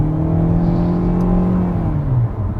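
A 2020 Kia Soul with a 2-liter non-turbo four-cylinder and IVT transmission accelerates hard, its loud, steady engine drone rising smoothly in pitch from inside the cabin, with no talk over it.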